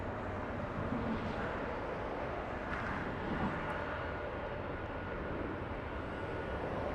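A steady, distant airliner roar holds throughout as a jet departs LAX under grey, cloudy skies, a broad continuous rumble with no talk over it.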